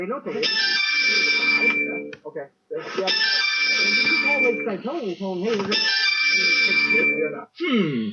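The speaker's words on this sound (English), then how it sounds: "His phone rang, and guess what ringtone he had?" A mobile phone ringtone plays a repeating electronic melody that runs almost continuously, with a voice speaking briefly over it.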